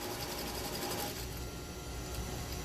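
A sewing machine runs a continuous stitching burst while sewing down a fabric face mask, a steady rapid mechanical whir that eases slightly in pace partway through, close and alone without talk.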